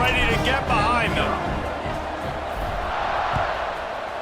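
A football stadium crowd at a Hawaii versus Georgia Southern game roars in a steady wash of noise around a kickoff, with a commentator's voice talking over it throughout.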